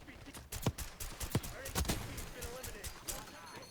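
Pistol gunfire in a video game: a few sharp single shots about half a second apart, fairly faint, among other in-game sounds.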